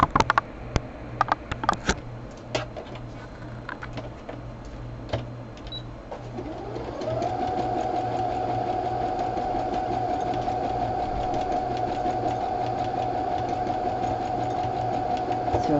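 A few light clicks and clatters come first, then a sewing machine stitches a fabric seam on a crumb square, its motor winding up to a steady, even whirring hum that runs close and unbroken to the end.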